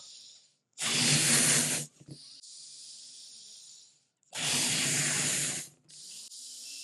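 Two long, strong bursts of breath blow hard into a balloon in an attempt to burst it, each roughly a second of loud rushing air, separated by quieter hiss and a short pause.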